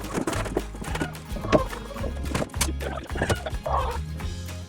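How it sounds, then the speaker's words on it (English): Donkeys at morning feeding time on a farm stir close by, with steady hoof clops and shuffling, a braying call, and continuous rustling and thumps throughout. "So let's go feed some donkeys, come on."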